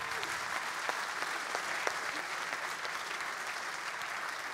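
Steady, fairly distant applause from the audience at the Béthune mayor's 2024 New Year address, an even wash of many hands clapping that runs for several seconds with no break.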